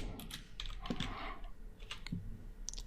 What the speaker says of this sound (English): So that's all I'm typing in for now.